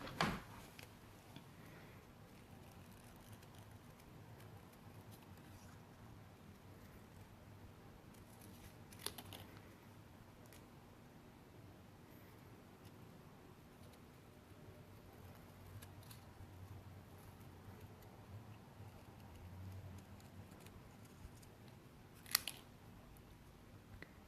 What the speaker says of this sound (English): I'm gonna just cut out this crescent moon.